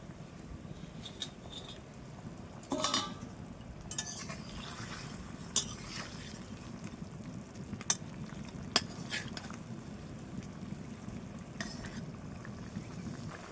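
Fish go into a bubbling mango curry in a cooking pot, and a low simmer runs under scattered sharp clinks and scrapes of a spoon stirring against the pot, with no voices.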